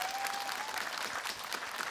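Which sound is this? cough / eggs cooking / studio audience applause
studio audience applause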